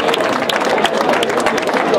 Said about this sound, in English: big round of applause for our 2 esteemed members of our community here